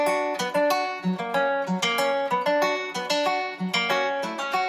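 A melodic sample played at the C5 pitch level in FL Studio, a bright plucked-sounding line of quick repeated notes with steady rhythm, loud and alone, for a YBNL-style remix.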